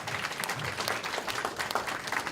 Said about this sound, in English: You give them a round of applause.